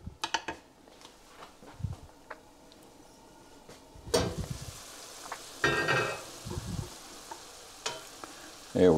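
Ground beef sizzles and crackles in a hot pan, with intermittent scraping stirs and bursts of louder frying between quieter moments.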